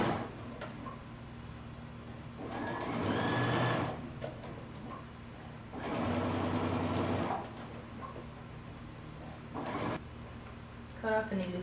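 A sewing machine runs in three separate bursts as it stitches the turned hem of a tunic sleeve, its needle rattling quickly and close, with quiet handling sounds between runs and a voice speaking at times.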